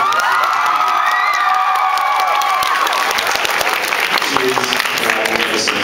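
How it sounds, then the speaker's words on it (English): A large audience at a Black Butler Q&A panel at New York Comic-Con bursts into sustained applause mixed with cheers and whoops, a dense, steady roar of clapping that stays loud throughout. "please, everyone give a round of applause for her"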